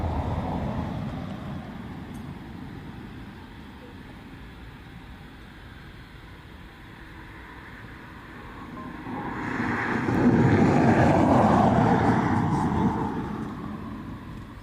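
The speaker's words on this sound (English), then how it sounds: "I will catch the Hainan. It's on taxi down to us here now" A Hainan Airlines airliner taxiing at Dublin Airport. A steady engine rumble and roar swells louder as the jet passes, then eases off slightly.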